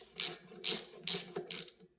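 Ratchet wrench running a rear brake caliper bolt in on a Harley-Davidson Sportster during a brake pad change, four quick clicking bursts in steady rhythm, close and clear with no talk.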